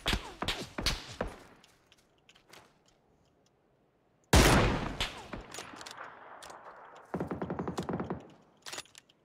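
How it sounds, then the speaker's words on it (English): Gunfire in the PUBG video game, with sharp shots in quick bursts, a loud heavy blast in the middle and a rapid automatic volley near the end, without voices. "Is that you shooting?"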